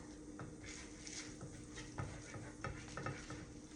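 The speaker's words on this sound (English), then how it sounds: "I'm gonna go ahead and add my garlic, and I'm gonna let that cook out." Garlic sizzling in hot butter and olive oil in a pan for shrimp linguine, a steady close crackling fry with occasional stirring scrapes and faint utensil clinks.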